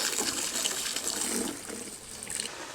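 Water gushes and splashes steadily from a garden hose filling a container, a continuous rushing flow, fairly close.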